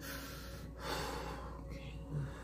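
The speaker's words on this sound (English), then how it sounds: "Inhale, exhale." Slow, deep breaths drawn in and let out near the microphone in a soft, intimate setting, with two gentle airy swells against a quiet hum and no talking.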